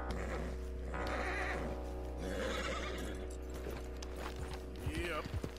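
A horse whinnies in Red Dead Redemption 2, its loud neigh rising and falling near the end over a steady low hum and ambient game sounds, with a voice talking faintly underneath.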